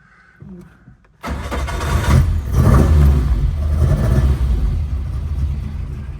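A 1972 Ford Escort Mexico engine cranks briefly, catches and fires into a loud, lumpy, uneven idle that keeps rumbling close by until the end.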